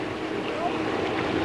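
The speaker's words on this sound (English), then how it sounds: "Pity about this bloody wind." Wind gusts across open water on a Tasmanian trout fishing lake, a steady moderate rush of wind noise buffeting the microphone with faint wave wash beneath.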